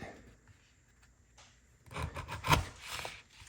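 Low scraping and rasping as a stropped D2 steel knife edge bites across a surface, rising into a louder grinding stretch near the end.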